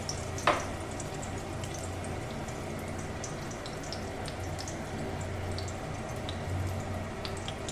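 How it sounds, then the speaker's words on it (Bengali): Eggplant rings go into hot oil, giving a steady, soft, low sizzle that runs throughout with a single brief clack near the start and faint crackles scattered over it. "এবার গরম তেলের মধ্যে আমি এই বেগুনের রিংটা দিয়ে দিচ্ছি"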